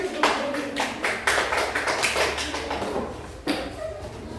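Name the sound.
classroom applause, students clapping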